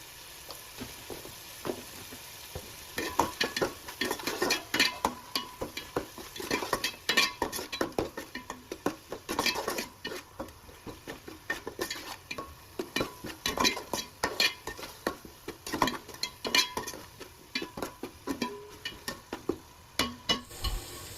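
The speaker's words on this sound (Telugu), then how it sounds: "కొంచెం వేగిన తర్వాత ఉప్పు పసుపు వేసుకొని బాగా కలుపుకోవాలి" Spices stirred in a hot pan with salt and turmeric for an egg dum biryani, a spoon scraping and clinking in steady repeated strokes over a faint background sizzle, close and continuous throughout.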